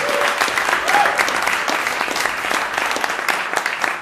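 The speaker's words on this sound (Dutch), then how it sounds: "Oké, een applaus, dames en heren." A dense, steady round of applause from an audience at a Dutch public discussion evening on the commercialisation of care and social work, filling the whole stretch at close range with no voices breaking through.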